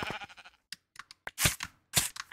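Sheep bleating in the Minecraft video game, several short separate bleats in a quick irregular sequence, fairly close and clear with no talk over them.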